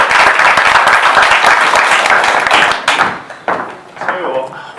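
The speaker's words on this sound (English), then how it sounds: "All right, just a round of applause for Steve." Loud, close applause from an audience at the Prince's Trust Awards, fast and dense for about three seconds, then breaking into scattered final claps and fading out.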